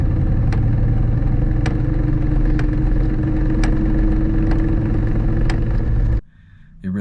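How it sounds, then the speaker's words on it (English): A Ford Mustang with a faulty transmission runs with a loud, steady idling rumble while sharp knocks repeat about once a second, then the engine sound abruptly cuts away near the end. "It's knocking really loud in second gear, and even in neutral, it's knocking really loud."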